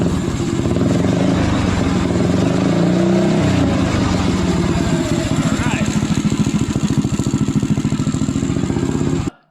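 A minibike's small engine runs steadily at about 1600 RPM, a loud, close, rapid chugging idle that holds even throughout before cutting off abruptly at the end.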